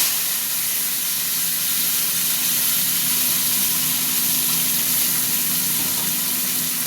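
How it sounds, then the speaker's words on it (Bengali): Onion and tomato added together to hot oil for an egg omelette curry give a steady, even hiss and sizzle with a faint low hum beneath, unbroken from start to finish. "এই যে পেঁয়াজ টমেটো একসঙ্গে দিয়ে দিচ্ছি।"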